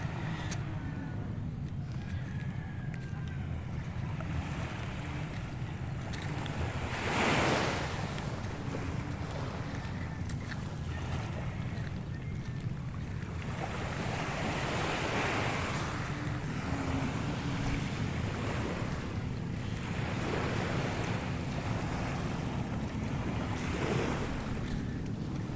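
Sea waves wash steadily onto the shore at Anahawan, Southern Leyte, where seawalls line the water. Wind buffets the microphone throughout, and several larger swells break at intervals over the constant roar of the surf.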